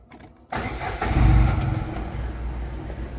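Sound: Datsun Go+ car engine starting

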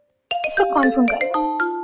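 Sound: phone ringing

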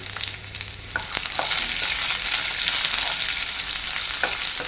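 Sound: sliced onion and green chilli frying in a pan

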